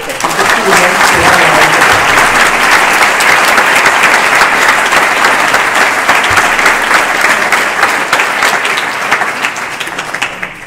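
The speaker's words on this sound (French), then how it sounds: "j'aimerais que vous les applaudissiez bien fort" Audience applause at a label award ceremony fills the room in a dense, steady wash of many hands clapping for about ten seconds, loud and sustained before thinning slightly at the end.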